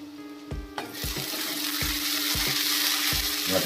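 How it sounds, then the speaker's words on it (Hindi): Ginger and garlic paste frying in a pan over medium-low flame, a rising broad sizzle with regular knocks and scrapes of a spoon stirring it, close and loud with no voices. "एक छोटा चम्मच अदरक का पेस्ट डालें और दो बड़े चम्मच लहसुन का पेस्ट डालें अब देखिए इसे क्या कर लेते हैं हम स्टर कर लेते हैं"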